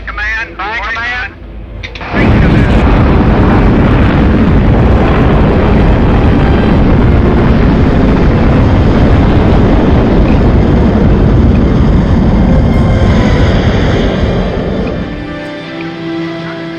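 Explorer 1 rocket launching from the Cape, opening with a countdown voice before a sudden, enormous sustained roar that thunders steadily for over ten seconds and then begins to fade.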